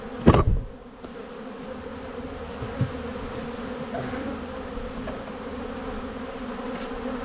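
A honey bee swarm hums around a swarm trap set on five-frame equipment outdoors, a continuous low buzzing drone after a sharp knock at the start, with an occasional faint tap.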